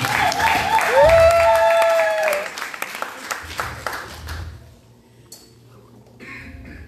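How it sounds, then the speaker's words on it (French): A church congregation at an honors ceremony for women ministers claps for a few seconds over a sustained musical tone and voices, then the applause fades into scattered claps and quieter room sound. "Nous l'applaudissons."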